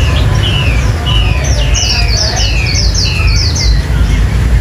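A Chinese hwamei songbird from the Cao Bằng–Lạng Sơn area, with a yellow striped breast, sings close by in repeated bright, rapid whistled phrases over a steady low background hum.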